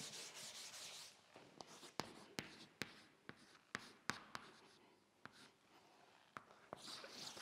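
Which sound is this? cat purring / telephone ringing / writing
writing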